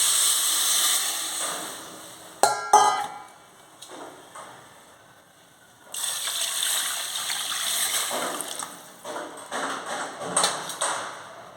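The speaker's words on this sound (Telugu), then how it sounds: "సాల్ట్ యాడ్ చేసుకున్న తర్వాత దీంట్లోకి నేను కప్పుకి కప్పున్నర వాటర్ తీసుకున్నానండి" Water is poured into a cooking pot for pea pulao, a steady splashing gush in the second half after a few metallic pings and clinks, close and moderately loud.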